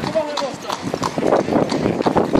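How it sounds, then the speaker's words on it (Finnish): Horse hooves clip-clop along a snowy winter street in Turku, a steady rhythm of sharp knocks close by, heard under people chatting. "Ja sieltä tulee näköjään hevonenkin."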